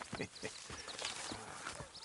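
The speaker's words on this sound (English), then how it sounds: "Horses will pull it clean down." Horses in the Red Dead Redemption 2 video game clop their hooves and strain while pulling, a run of close, uneven hoof thuds that is moderately quiet, with a little faint game voice in the background.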